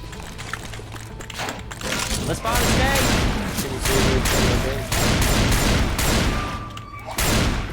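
Shotgun blasts in Left 4 Dead 2 during a Dark Carnival speed run, a series of heavy booming shots in quick succession over a busy, noisy game mix, with thumps and clutter between them.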